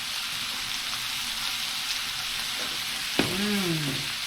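Autumn seasonal vegetables simmer and fry gently in a pan, a steady soft sizzling hiss at moderate level, with a brief clink and a short tonal squeak near the end, no talk.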